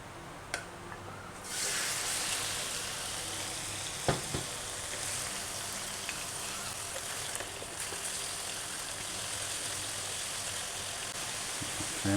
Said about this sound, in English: now I'm going to take the 250 grams of shrimp and we're going to fry them